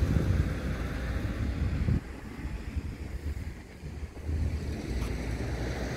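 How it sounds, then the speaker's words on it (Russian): Cascading ponds and waterfalls give a steady broad rush of water in an empty park, constant and fairly loud with no voices. "Водопады каскадные тоже довольно хорошие."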